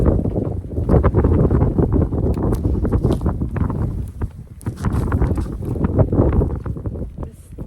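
Strong wind buffets outdoors near the microphone, rumbling and gusting loudly throughout with fluttery bursts as it blows against torn row cover fabric in a garden; no talk.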